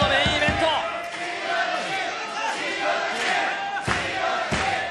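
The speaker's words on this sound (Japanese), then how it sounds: "塩崎コール。" Pro wrestling crowd at Korakuen Hall chanting for Go Shiozaki during a NOAH main event against Shelton Benjamin; loud rhythmic crowd voices with claps and bangs, a commentator talking over them.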